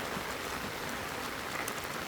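Steady rain falls all day in rural Thailand, a soft, even hiss of drops on surfaces with no pauses, fairly faint and with no voices.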